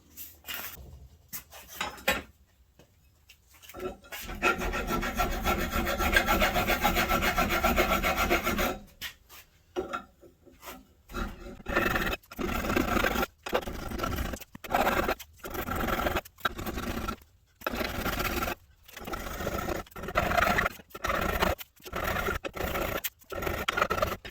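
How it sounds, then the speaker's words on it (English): A hand file rasps against metal to line up a bolt hole. It starts with one long continuous stretch of filing, then settles into a run of short, rhythmic strokes separated by brief pauses, close by and without talking. "We're going to do the last little bit with a hand file."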